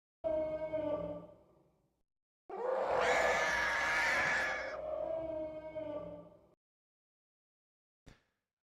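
Wampa creature noises from Star Wars: a rasping, tonal growl, a gap, then a loud roaring scream-like howl several seconds long that fades into a lower moan, ending with a brief faint click, no talk.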